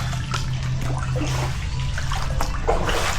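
Knee-deep floodwater spills over and flows into a house in Kampung Sampun, Kota Samarahan, Sarawak, a close, continuous gurgling and trickling with small splashes over a low rumble.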